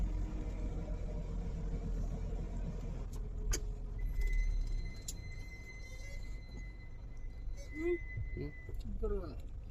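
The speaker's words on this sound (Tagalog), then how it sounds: "Grabe ang traffic guys." Heavy road traffic heard from inside a car: a steady low engine and road rumble continues throughout, with a few faint passing-vehicle tones, and voices talk in the cab over it.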